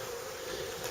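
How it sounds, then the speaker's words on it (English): A wasp buzzing beside an open beehive during hive inspection, a steady close insect drone lasting just under a second with no voices. "There's a wasp there"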